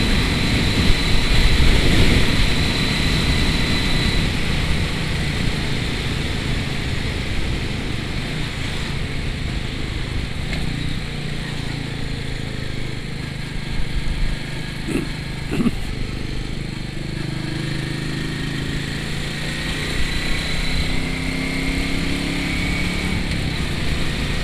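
A Royal Enfield Meteor motorcycle rides along on an evening, its engine a steady close drone under heavy wind rush that stays loud and constant throughout, with a few brief clicks and thumps along the way.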